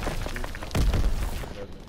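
A grenade blast in the Resistance DLC of a first-person shooter lands as a loud low boom about midway, with a rumbling tail, amid other game noise and faint background chatter.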